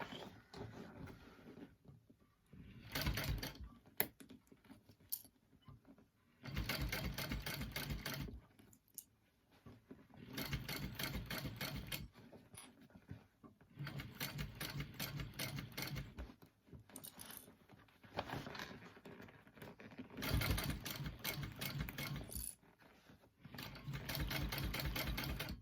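A sewing machine stitches a shoulder bag in several separate bursts of steady mechanical whirring, each lasting a few seconds, with quiet pauses between them and no talk.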